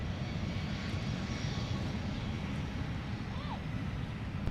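A Sun Country airliner inbound from Baltimore-Washington arrives at Minneapolis–Saint Paul airport, a faint, distant, steady engine rumble lying low and continuous, with no voices over it.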